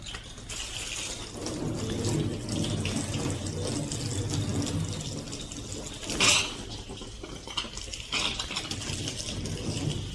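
Water rinsing cleaning product off a car's paint, a steady hissing spray from a hose running throughout with a brief louder splash partway through, alone without talk.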